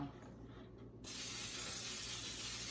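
Quiet room tone, then a spray can beside an air fryer suddenly lets out a steady, close, continuous hiss that holds to the end.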